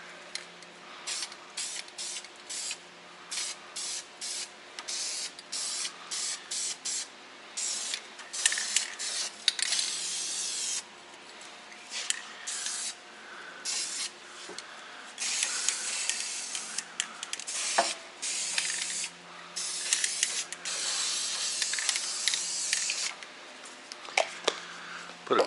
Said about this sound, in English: Put a coat of paint on there somewhat. Keep the rust a little bit down.